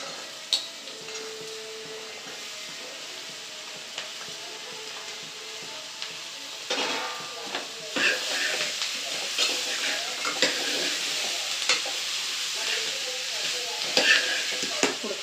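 Chopped ridge gourd pieces fry in oil with turmeric in a village-style pan, giving a steady soft sizzle that grows louder and busier as they are stirred, with occasional spoon taps and no talking.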